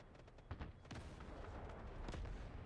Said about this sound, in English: I can hear on the right, really good explosions and bass coming through